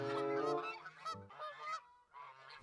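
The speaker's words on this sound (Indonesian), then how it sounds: "Ini namanya angsa" Toy goose honking, a series of nasal, buzzy honks, close and fairly quiet, several short calls in quick uneven succession with brief pauses, with no talk.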